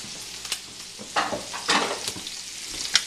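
Mushroom stems, onion, garlic and peppers hit a hot pan and sizzle, with bursts of crackling frying and stirring scrapes, close and moderately loud, with no talking.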